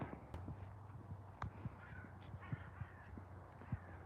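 A few sharp crow caws ring out at a distance over a steady low rumble on a riverside at sunset in the Scottish Borders, spaced irregularly and fairly faint.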